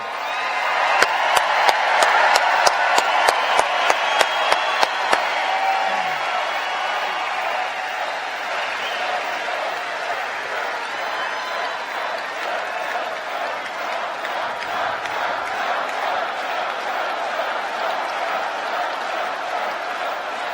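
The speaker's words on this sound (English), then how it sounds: "Let's give a big round of applause for your president." Crowd at a presidential rally in Fort Myers, Florida, applauding and cheering; a few sharp rhythmic claps open over a broad, sustained roar of a large audience that holds steady and loud.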